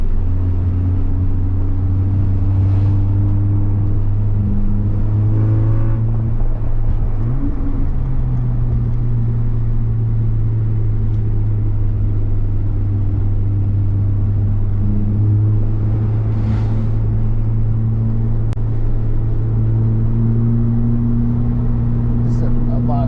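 A car engine drones steadily in fourth gear around the Lime Rock race track, a constant low hum that dips and rises gently with speed, running under continuous in-car conversation.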